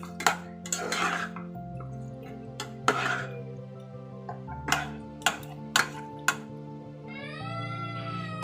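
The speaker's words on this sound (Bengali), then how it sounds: "এটাকে ভালো করে এবার নাড়িয়ে নিতে হবে।" Aloo posto being stirred in a pan, the spoon knocking the metal in several sharp clinks and scrapes spread irregularly over a steady low cooking hum, close and fairly clear with no talking.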